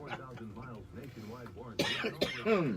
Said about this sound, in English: Sorry about coughing all through there